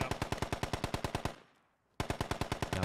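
Rapid automatic gunfire from a sniper in the tactical shooter game Squad, loud and evenly spaced shots running steadily, breaking off into a fading echo for half a second before the burst resumes.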